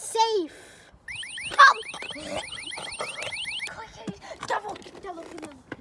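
An electronic alarm sounds after being set off by accident, a rapid repeating warbling siren tone that runs for a few seconds and then stops, with children talking and shouting around it.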